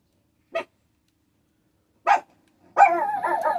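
A dog gives two short, sharp barks spaced well apart, then a longer run of strained, whining yelps. All of it is close and loud against silence.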